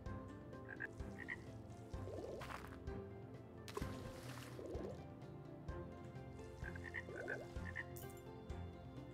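A pet frog in a farming-style video game croaks in short rattling bursts that recur several times over a busy, steady bed of game sound effects, with drips and light knocks scattered through.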